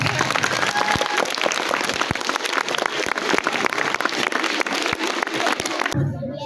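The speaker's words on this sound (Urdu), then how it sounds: "دونوں گروپس کے لیے بھرپور تالیاں" An audience at a school Iqbal Day programme claps loudly and steadily for the performing groups, a dense roar of applause that continues for several seconds before cutting off near the end.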